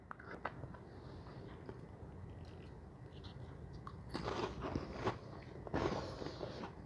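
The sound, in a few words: eating and tasting million dollar touchdown dip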